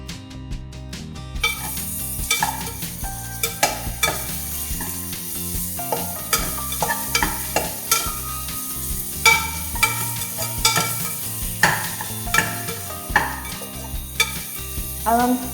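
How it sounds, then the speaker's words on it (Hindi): Onions with garlic-ginger paste sizzle and fry steadily in a pan, with a constant hiss beneath repeated clattering scrapes and knocks of a spoon stirring against the metal, close and busy, with no talking. "अब हम प्याज़ों और लहसुन अदरक के पेस्ट को थोड़ी देर और फ्राई करेंगे"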